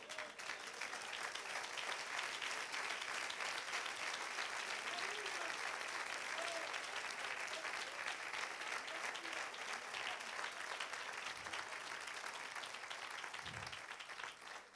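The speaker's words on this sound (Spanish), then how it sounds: "Tira el aplauso" A church congregation bursts into applause during a sermon on faith and God's promise. Dense clapping carries on evenly for the whole stretch, faint and somewhat distant, with a few brief low thumps near the end.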